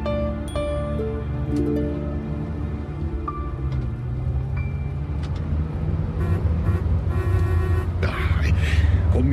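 Milan city traffic as a radio drama sound effect: steady car and bus engines with a horn toot and passing vehicles, a dense roadway rumble throughout.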